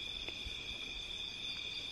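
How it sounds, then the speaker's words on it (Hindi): Steady high-pitched insect-like chirring trills continuously at a distance from frogs in a pond, with faint low thumps beneath and no talking. "और इस तालाब में ना कैसे मेंढक है,"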